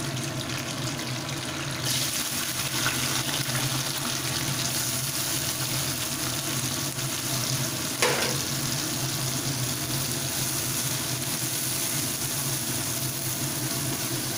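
Onion, slit green chillies and black cumin seeds frying in leftover fish oil, a steady close crackling sizzle with a brief clatter partway through, no voices.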